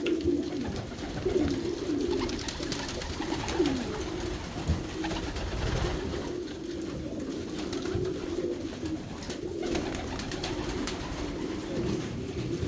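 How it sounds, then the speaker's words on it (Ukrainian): Soft, continuous cooing from several pigeons in a breeding loft box, low and throaty, repeating in overlapping bursts at close range with no talking. "Голуби здорові, дуже активні."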